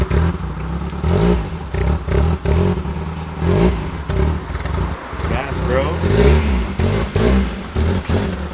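A Mazda Miata, a project car, pulls away with engine revving and accelerating under steady nearby voices talking throughout.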